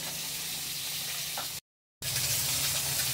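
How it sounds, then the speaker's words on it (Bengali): Pabda fish fry in hot oil for a mustard-poppy seed curry, giving a continuous loud sizzle and spatter. The sound cuts out completely for a moment, then returns at the same intensity. "মাছগুলো যে লাল করে ভেজে নিয়েছি, দেখো আবার দিয়ে দিয়েছি, খুব ছিটকাচ্ছে"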